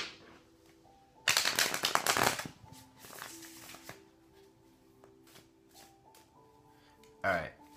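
Tarot cards are shuffled by hand in two bursts of crisp riffling and flicking, close and fairly loud, with a soft tonal hum beneath and a brief final shuffle near the end.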